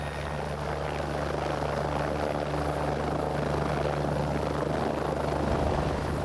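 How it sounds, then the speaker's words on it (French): A helicopter flies over Martinique on its way to drop a person at the Grand B monitoring station, a steady close rotor thrum with a constant whine above it and no voices. "l'hélicoptère dépose Valérie au Grand B"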